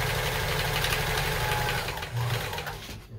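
A Kenmore 158.14000 sewing machine runs steadily as it stitches down a thick, heavy denim jeans seam, with a continuous close mechanical whir that slows and fades at the end.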